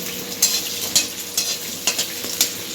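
Julienned ginger sizzles steadily in a hot pan as a spatula stirs it, with regular sharp scraping taps against the pan about every half second over the continuous frying hiss.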